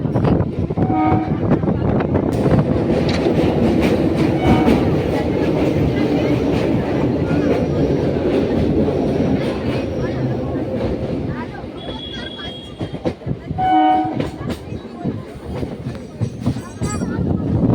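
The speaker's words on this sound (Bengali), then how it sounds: "পনেরো মিনিট পর ট্রেনটা ছাড়লো।" A passenger train between Ranaghat and Taherpur, West Bengal, rumbles and rattles along steadily, wheels clattering in a continuous loud roar, with people talking and a brief horn-like tone.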